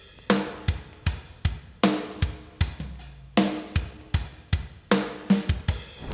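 A simple closed hi-hat pattern over kick and snare in a calm shoegaze verse beat, with crisp, evenly repeating ticks riding a steady groove, loud and upfront with no talking.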